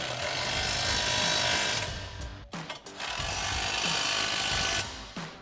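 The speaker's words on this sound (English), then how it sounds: "we'll go ahead and tighten those down with our 18mm socket on our impact and an 18mm wrench" Impact wrench with an 18mm socket running down bolts on a Body Armor 4x4 Ambush XT front bumper for a 2010-2018 RAM 2500, two loud close bursts of rattling hammering separated by a short pause.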